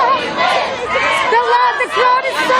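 A large abortion-rights protest crowd chants in loud unison, voices echoing and swelling in rhythmic phrases, with crowd noise filling the space between shouts.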